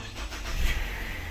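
A Ford Fusion with a past rough-idle and no-start-after-refueling fault cranks and fires up, its engine catching into a steady close idle rumble over the brief moment.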